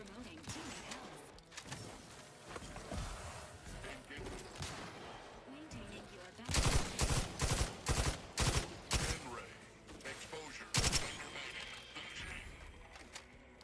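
Bursts of gunfire in the sci-fi shooter Outer Worlds 2, loud and clustered, with a rapid string of shots in the middle and a few isolated cracks later, over continuous game noise and voices.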